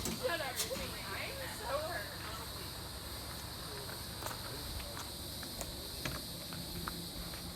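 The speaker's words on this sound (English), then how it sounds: "'Tis the year of the cicada." A steady high-pitched insect drone of cicadas hums throughout, with faint chirps and rustling underneath.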